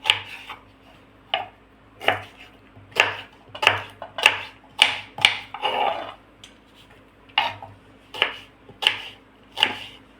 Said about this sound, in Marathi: काढले कैरीचे आपण कट करून घेणार आहोत, म्हणजे याच्या छोटे छोटे फोडी करून घेणार आहोत आपण।